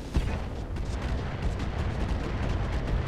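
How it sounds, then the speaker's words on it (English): Massed weapons fire from a mech alpha strike in the Roguetech BattleTech mod, a dense, continuous rumble of booming shots and impacts filling the whole stretch at steady loudness with no voices. "Commencing alpha strike."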